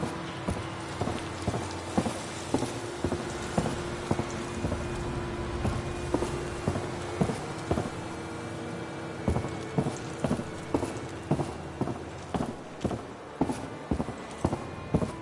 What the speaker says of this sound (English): I can hear your footsteps.